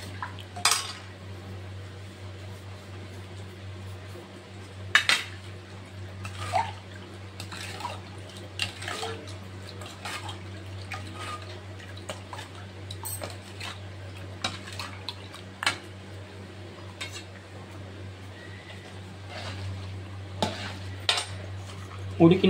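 Cardamom powder being stirred into milk in a metal pot: repeated soft scraping and clinks of a spoon against the pot over a steady low hum, with occasional sharper taps, no talking.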